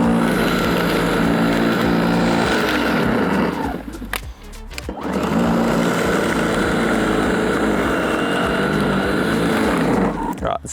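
A lawn mower fitted with a groomer attachment runs with its catcher removed: a loud, close engine roar that bogs down and dips sharply midway, then picks back up and labours on.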